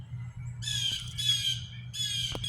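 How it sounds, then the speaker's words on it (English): Several harsh squawks from odd-looking birds in a backyard vegetable garden, three bursts in a row with short gaps, moderately loud over a low steady background hum. "The thing about these weird birds is it's like living in Australia, in an alternate universe."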